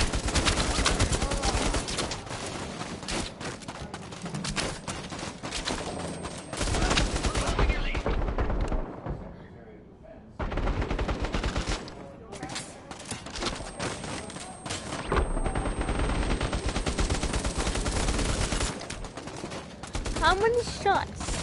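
Rapid bursts of gunfire in the VR shooting game Bravo Team, loud repeated volleys and automatic fire with a short lull in the middle, then more sustained shooting.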